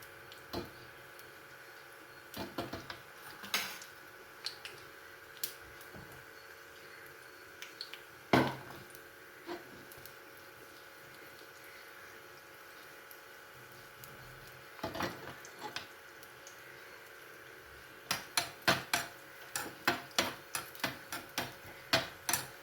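Cashews and raisins frying in a pan for payasam, a soft continuous sizzle with scattered clinks and scrapes of a ladle against the pan, busier toward the end.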